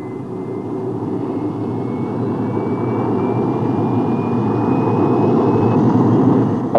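Jet aircraft engine running steadily as a continuous loud roar with a faint rising whine, heard alone, from a Soviet-era military aviation training film about jet fighters.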